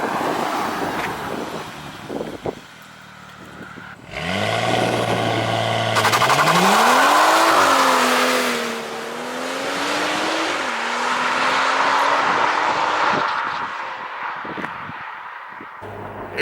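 A 370hp BMW M135i with resonator delete slows down, then accelerates with manual shifting: the engine note climbs strongly, drops at each gear change and climbs again, loud and close amid heavy wind noise.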